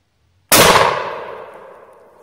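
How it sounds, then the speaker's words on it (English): A JW2000 12 gauge double barrel coach shotgun fires both barrels at once, a single loud, sharp blast with a ringing tail that fades over nearly two seconds. "Try both barrels at one time."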